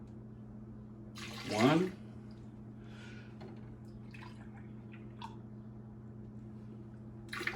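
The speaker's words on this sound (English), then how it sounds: "the next ingredient that I am putting in, the recipe calls for 1 1/4 cups of whole milk." Whole milk pours briefly into Swedish pancake batter, a short splashing gurgle near the start. A kitchen hum runs underneath, followed by faint clinks and a spoken word.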